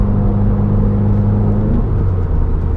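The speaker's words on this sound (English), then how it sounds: "This car gets going, especially with the stage 1 tune." A 2018 Subaru WRX with a stage 1 tune accelerates, its engine a loud, steady, close rumble with a droning hum throughout, no talk.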